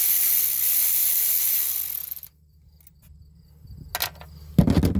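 A bolt is loosened and removed on a 2008 Smart Fortwo during fuel injector replacement: a loud broadband rush gives way to near silence, then a few close, sharp mechanical clicks and rattles.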